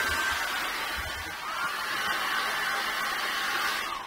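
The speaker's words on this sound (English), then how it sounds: "let's get the hairdryer on that now and just give it a really good blast with the hairdryer" A hairdryer blows continuously at high speed on wet acrylic paint, a steady close whooshing roar with slight dips in intensity, no talking.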